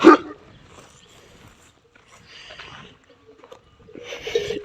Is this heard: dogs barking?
yes